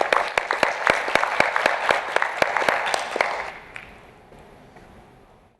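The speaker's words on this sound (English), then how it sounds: "let's give him an applause," Audience applause for a petroleum company CEO at a climate-change panel session, a burst of distinct claps from a modest crowd that thins and fades out after about three and a half seconds, leaving near silence.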